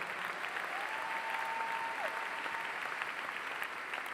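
A church congregation applauding together, a steady dense wash of clapping hands that fills the whole moment at even loudness, with a brief tonal whine running through the middle.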